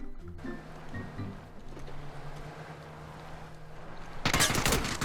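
In PUBG, a sharp burst of loud gunfire cuts in near the end after a quieter stretch of low engine-like drone and rustling, the shots close and dense.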